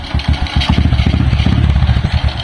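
A motorcycle fitted with a Karisma engine idles close by, its loud, lumpy putter steady and rhythmic with a mechanical clatter running through it and no voices over it.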